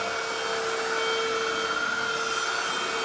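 An SVHT cordless vacuum cleaner runs steadily on bedroom carpet at high suction, giving a loud, constant motor whine with a broadband airy roar and no talking.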